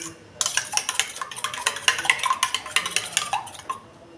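Salt being mixed into a bowl for Mughlai paratha, a quick, steady run of close clinking and scraping strokes of a spoon against the bowl, with no voices.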